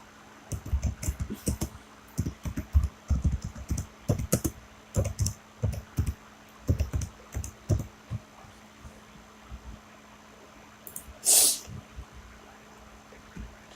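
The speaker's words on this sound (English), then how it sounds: "If you hear some clicking, I am, just a little FYI, I'm on my laptop" Laptop keys are typed in quick bursts of soft, dull clicks for about eight seconds. Quieter scattered taps follow, and there is a low steady hum under them and one brief brighter sound near the end.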